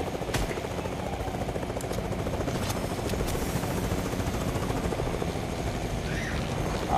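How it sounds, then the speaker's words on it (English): A helicopter flies in a video game, its steady rotor and engine drone loud and continuous throughout, with faint game sounds scattered over it. "It's nice to use the chopper again."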